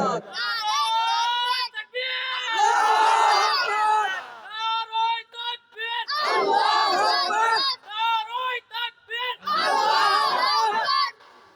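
A large crowd at a Bangladeshi religious rally in Bogura shouts the takbir, Allahu Akbar, in loud repeated waves of chanting voices, each burst a couple of seconds long with brief pauses between.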